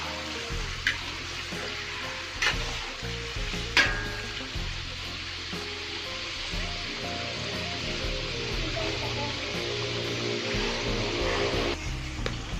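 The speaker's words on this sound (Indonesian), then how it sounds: "Ini warnanya udangnya sudah agak merah, jadi sudah bisa kita balik." Shrimp fry in a pan for sambal with potatoes, a continuous close sizzle with a few sharp clacks and scrapes as the pieces are turned, and no one speaking.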